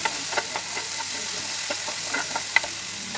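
Hyacinth bean seeds sauté in a pan with a soft, steady sizzle, broken by faint scraping stirs and a few small clicks, close up and without talk.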